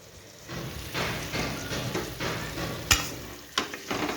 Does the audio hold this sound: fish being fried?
yes